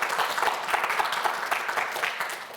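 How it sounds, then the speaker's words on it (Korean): Studio audience at a televised student quiz show applauding a contestant who has just taken the lead, a steady dense clapping that fills the whole moment with no talk. "박수 한번 보내주시죠."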